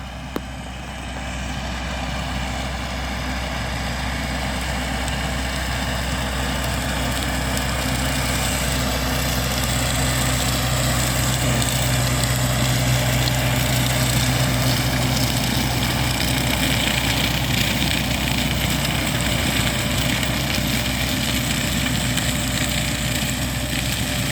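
A tractor engine drones steadily and loudly for the whole stretch while sowing Bohdana winter wheat into mulched stubble, with no talking over the low, unbroken rumble.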